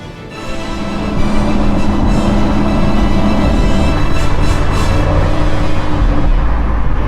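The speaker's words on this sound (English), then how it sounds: "But I'm just floating along quietly. The exhaust has turned itself down." Inside an Audi SQ7 with a petrol V8 on 22-inch wheels, cruising gently with the exhaust toned down: a low, even cabin hum of engine and road noise that swells slightly at the start and then holds steady.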